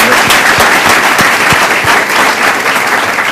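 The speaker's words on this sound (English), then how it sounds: "Let's have a round of applause for them." Dense, sustained applause from a large crowd at a club speech, loud and close, with many hands clapping at once and no talking.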